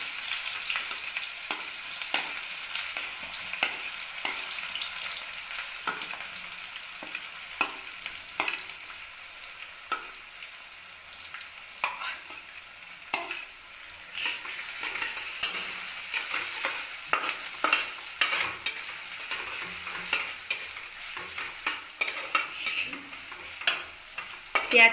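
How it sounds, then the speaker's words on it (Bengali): Onions frying in a pan over low heat, a continuous close sizzle broken by frequent scraping stirs and small clicks of a utensil against the pan. "প্রথমে আমি পেঁয়াজ ফ্রাই করব।"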